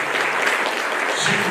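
A roundtable audience claps, giving a dense, continuous burst of applause that holds at an even level for its short duration.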